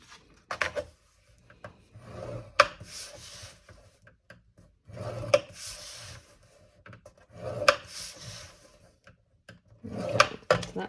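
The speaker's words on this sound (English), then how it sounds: "we are going to need to burnish each one of these score lines" Burnishing score lines on a folded craft card, repeated dry rubbing strokes in short bursts with pauses between, faint and close, with occasional light taps and no talk.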